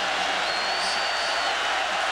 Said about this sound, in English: Crowd coming alive a little bit here at Georgia